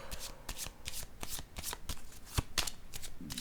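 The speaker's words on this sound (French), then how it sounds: "Je vais déposer une carte ici." Tarot cards handled and laid down on a table, a run of quick crisp papery flicks and soft slaps repeating every few tenths of a second, close and clear with no talk.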